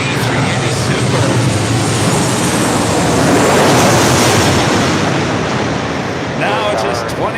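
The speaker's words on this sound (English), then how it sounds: "That was a really loud A380 video." An Airbus A380 passing at LAX gives a loud, broad roaring rumble that swells and fades over several seconds, with a voice speaking briefly near the end.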